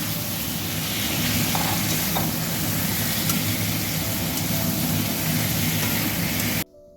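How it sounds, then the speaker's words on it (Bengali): Chicken and pre-fried potatoes sizzle steadily in a pan while being stirred, a continuous loud frying hiss with soft scraping throughout, ending abruptly near the close. "দিয়ে এবার আমি একটু নাড়াচাড়া করে মশলাটা দেব।"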